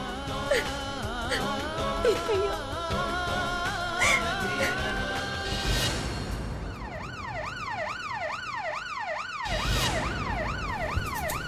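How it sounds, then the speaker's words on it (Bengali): Ambulance siren in a Bengali TV serial, first a steady wailing siren mixed with other horn tones, then a loud repeating up-and-down wail that rises clearly for several seconds before cutting off, with no talk over it. "অ্যাম্বুলেন্সের আওয়াজ না?"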